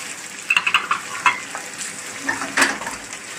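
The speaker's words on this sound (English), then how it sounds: "we fry up the tofu and the tempeh" Tofu and tempeh sizzle and fry in a wok, with sharp spatula scrapes and stirring clatters breaking through the steady crackle in several close, bright bursts.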